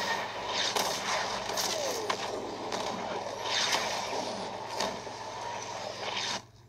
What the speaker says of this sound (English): Engage all artillery towers.